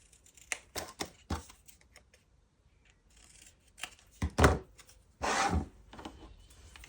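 Scissors snip a paper ticket off a strip in a quiet room, with a handful of crisp, close cuts spaced irregularly, and a couple of louder, longer slices near the end.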